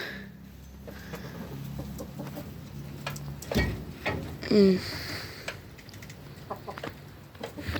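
A chicken clucks a few times at a moderate distance over quiet outdoor background noise.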